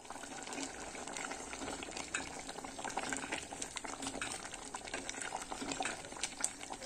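Ajiaco de habas, a thick potato and fava bean stew with cheese, milk, huacatay and cilantro, bubbling steadily in a pot, a continuous close simmering hiss with small irregular pops and no voices.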